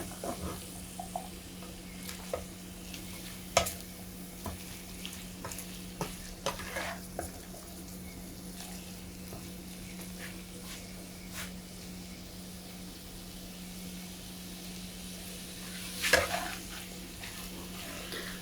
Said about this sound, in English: Just we stir fry it for 3 to 4 minutes until the cabbage and carrots become little soft